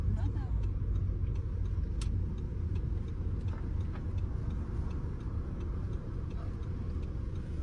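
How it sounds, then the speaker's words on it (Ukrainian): A car's left turn signal ticks in a steady, regular rhythm inside the cabin during a driving lesson, faint beneath engine and road noise. "Ми повинні завжди бути з показчиком лівим."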